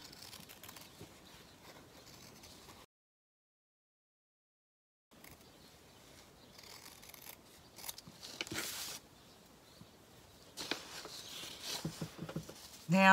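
Scissors snip around sewn fabric in short, close, irregular cuts, with a brief silent gap and soft handling noises between the snips.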